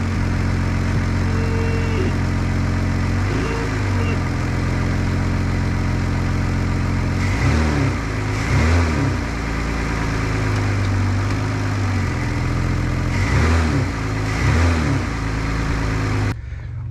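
A Ford Fusion engine with freshly replaced motor mounts idles steadily in neutral, then rises in several short revs grouped in pairs, close and loud with a constant low hum between blips.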